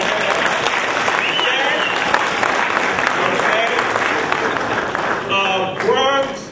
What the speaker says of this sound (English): let's hear a clap for Brooklyn